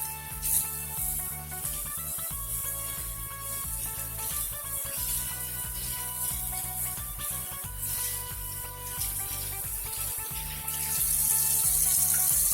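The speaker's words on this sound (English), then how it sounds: "I'm rinsing my hand right now." Tap water runs steadily from a faucet as hands are rinsed under the stream, a continuous close gush with no talk, the flow swelling slightly louder near the end.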